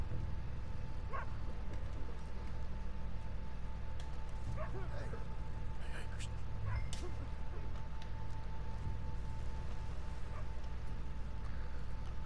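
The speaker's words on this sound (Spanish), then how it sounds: "Es un perrito." A dog in Red Dead Redemption 2 barks and yips in short, scattered bursts over steady low in-game ambience, with a voice talking through parts of the scene.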